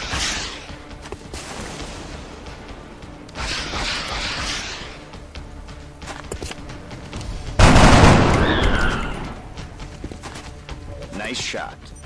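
Squad gunfire in XCOM Enemy Unknown: several sharp shots and bursts scattered across the clip, one louder blast near the middle, with game voices speaking between them.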